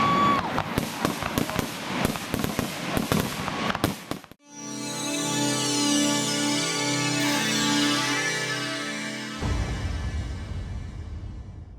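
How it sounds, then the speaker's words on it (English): Fireworks display at a community celebration in southern Indiana: a dense run of loud crackling bursts and bangs for about four seconds, then a long sustained tonal hum with a steady hiss, dropping lower and thinner near the end. "I came back just like to watch the fireworks again"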